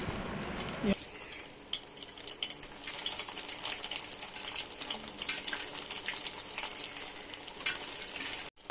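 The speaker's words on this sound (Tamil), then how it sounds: "கடாயில் எண்ணெய் காஞ்சது எல்லாத்தையும் இதுமாரி போட்டு பொறிச்சு ஏற்றுக்கலாம்" Bread rolls deep-fry in hot oil in a kadai, giving a continuous close bubbling sizzle that holds steady for several seconds.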